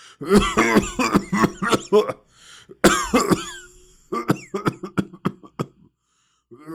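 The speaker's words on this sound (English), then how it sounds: "How long have you had that cough?" A series of harsh, hacking coughs and throat-clearing bursts, close and loud, coming in irregular clusters with short pauses between them.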